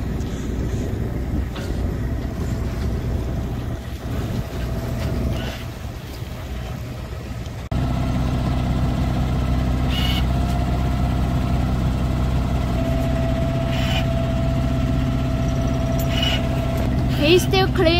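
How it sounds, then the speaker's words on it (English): An Albin Vega sailboat's engine motors through still air off the Swedish south coast, a steady low idling drone that grows louder partway through, with a voice speaking over it in places. "I think the engine's doing most of the work."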